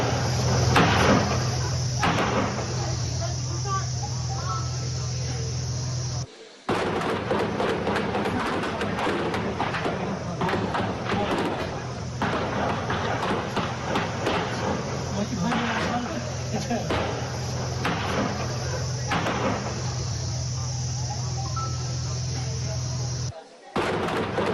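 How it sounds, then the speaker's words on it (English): Heavy gunfire during a security forces encounter in Kokernag, Anantnag, with sustained cracks and bursts running almost nonstop, loud and dense, and voices mixed in beneath the firing. "So an intense round of firing, as you can hear there."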